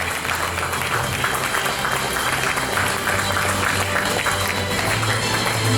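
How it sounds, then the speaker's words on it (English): Audience applause at an inauguration ceremony, a dense steady wash of clapping from a crowd that holds at an even loudness for several seconds with a low hum underneath. "A big round of applause for Rati Devi madam"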